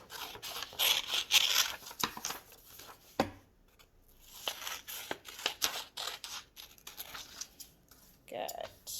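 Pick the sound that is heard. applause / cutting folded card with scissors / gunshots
cutting folded card with scissors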